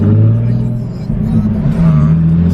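A car driving on the road during a long drive home, with a steady low engine and road rumble filling the cabin, close and continuous, with a person talking over it.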